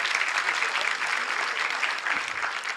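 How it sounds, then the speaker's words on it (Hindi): Dense, steady applause from an audience at a university spiritual discourse, greeting an honored guest; loud, sustained clapping from many hands throughout with no voices standing out. "जोरदार तालियों से भगवान का"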